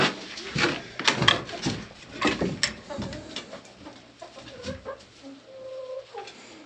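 Hens in a spray-foam insulated backyard chicken coop in snowy December, clucking and squawking in irregular bursts close by, with a few louder squawks and rustling, no talking.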